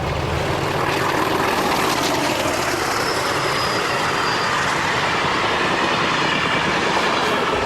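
A CP class 1800 diesel locomotive passing the main diesel workshops in Portugal, a steady loud rumble and roar of engine and rolling stock with no break, alone and without voices.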